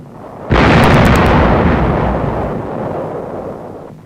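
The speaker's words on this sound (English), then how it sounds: "are wiped out by naval shelling" A naval shell explosion at Okinawa during World War II bursts in a single loud, heavy blast with a brief crackle, followed by a long rumbling decay.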